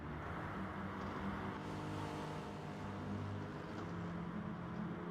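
Touring cars race on the track in an NTCC round, one running in the slipstream of a Chevrolet. A steady drone of engines sounds at a distance, with no voices.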